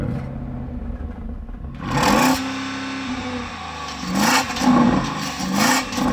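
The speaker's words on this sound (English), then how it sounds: "let's hear the Porsche Cayenne Turbo GT." A Porsche Cayenne Turbo GT engine idles with a low rumble, then is revved hard several times, each rev rising sharply and falling back.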